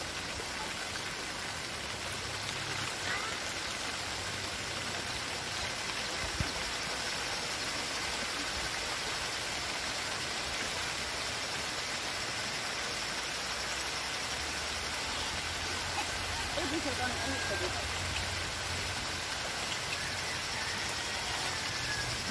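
Rain falling over a traditional village, Desa Senaru on Lombok, a steady, even hiss of rainfall with a faint low rumble underneath, constant throughout and without voices.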